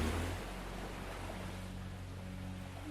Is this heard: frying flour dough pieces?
no